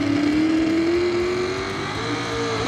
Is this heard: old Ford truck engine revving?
yes